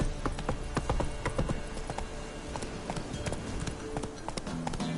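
Roach the horse gallops in a video game, with a steady run of close hoof clip-clops driving through the whole stretch over a busy background.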